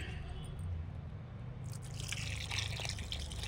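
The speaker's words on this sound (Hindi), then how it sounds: "अब इसमें मैं पानी डाल रही हूँ।" Neem and aloe vera water is poured onto freshly repotted young tomato plants, a faint steady trickle and patter of liquid with soft splashing that grows a little brighter partway through.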